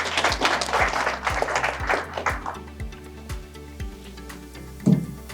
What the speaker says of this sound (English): Let's clap for her as she comes.